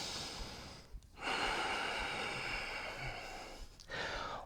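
Heavy, audible breathing during an intense athletic power yoga flow, with long sustained inhales and exhales broken by two brief pauses, close and fairly loud with no talk.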